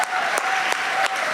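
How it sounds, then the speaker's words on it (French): Loud, dense audience applause for a comedian at a comedy gong show, a steady wash of clapping with a few sharper accents. "Ah, OK, on peut l'applaudir."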